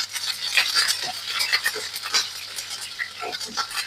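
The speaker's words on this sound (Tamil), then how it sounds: "பாருங்க கடுகு சீரகம் இப்படி பொரிஞ்சு வரைக்கும் நல்லா அடுப்பை நல்லா லோவ்ல விட்டுட்டு கருவேப்பிள்ளையும் பச்சை மிளகாயும் சேர்த்து கொள்ளுவோம்" Mustard seeds, cumin, curry leaves and green chillies sizzle and crackle in hot oil in a pan, with dense close popping and spattering and light stirring clinks, no voices.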